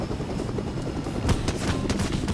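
Helicopter in the Fortnite video game, its steady rotor drone continuous and fairly close, with bursts of gunfire cracking over it toward the end.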